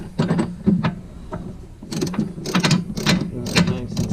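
Ratchet tie-down strap being cranked tight to hold a spare tire on a Polaris RZR 800 rack, giving repeated close, rhythmic clicking bursts with brief pauses between strokes.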